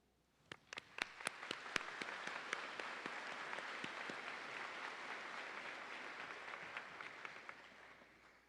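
A crowd applauds at a university commencement ceremony for a college of business, opening with a few sharp distinct claps that quickly build into sustained, even clapping from a large audience before tapering off.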